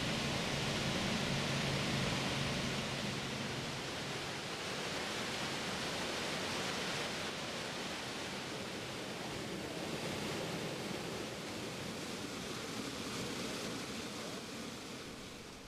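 Several small waterfalls running through narrow lanes of a village in southern France, heard as a steady, full rushing wash of falling water that continues unbroken and fairly loud throughout, with no voices.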